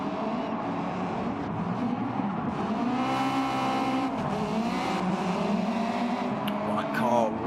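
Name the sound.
Subaru racing cars colliding in racing video game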